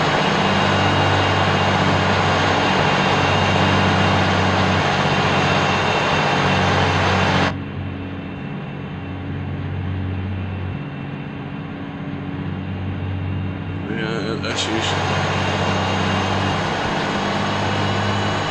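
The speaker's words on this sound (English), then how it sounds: "Listen to see if the engine's going to hold out, the gears are going to hold out." A truck engine drones heavily as it strains uphill in the Spintires Harsh Russia video game, a continuous low loaded rumble that briefly drops and thins before returning at full strength.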